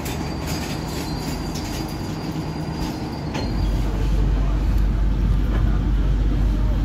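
Steady, loud rumble of a KA Lodaya economy-class passenger train running on rails toward Cibatu station, heard from inside, with wheel noise and a deepening low roar midway.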